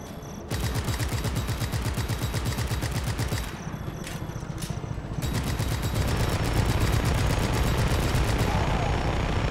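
Loud, rapid automatic gunfire in the video game Just Cause 3, rattling almost nonstop, easing briefly in the middle before resuming, with a low droning helicopter engine underneath.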